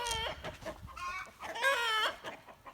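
A Barred Rock chicken clucks and squawks in short, bursting calls, a few separate bouts close by at modest volume.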